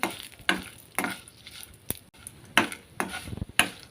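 Dried red chillies and lentils fry in hot oil for ginger pickle, a soft continuous sizzle broken by regular sharp stirring scrapes and taps of a spoon against the pan, roughly every half second.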